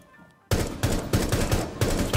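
Rapid automatic gunfire from a Rainbow Six Siege match rattles out in loud repeated bursts after a brief quiet start, dense and close, with no talking.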